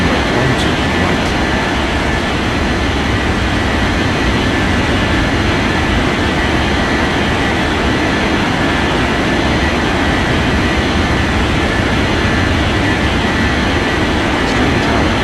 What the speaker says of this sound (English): United 1323 cleared for takeoff runway 12 right.